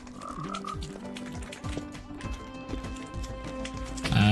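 Frogs croak in a Minecraft 1.21.10 survival world. Repeated low croaks overlap in an irregular rhythm against a faint steady background, with a brief louder clatter at the end and no talking.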